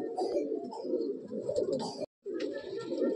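Madrasi breeding pigeons in a loft coo in low, soft, repeated rolling calls close by, with a brief silent gap partway through.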